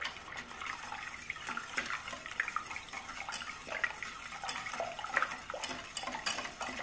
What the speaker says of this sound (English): And then I'm just gonna whisk this all together.